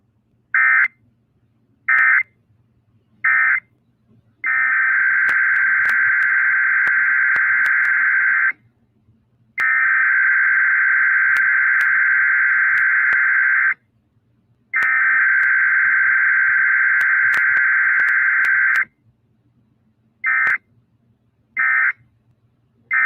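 Weather radio Emergency Alert System test tones: a run of short steady beeps, then three long sustained tones of several seconds each separated by gaps, followed by a few more short beeps, loud and alone.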